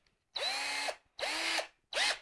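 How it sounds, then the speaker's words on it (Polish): A drill fitted with a tile bit bores into a clay flower pot in three separate bursts, each a steady high whine lasting about half a second with brief silences between, close and clear. "najpierw tym wiertłem do kafelek"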